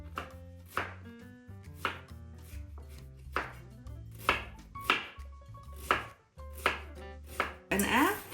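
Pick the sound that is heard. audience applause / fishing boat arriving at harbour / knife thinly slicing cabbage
knife thinly slicing cabbage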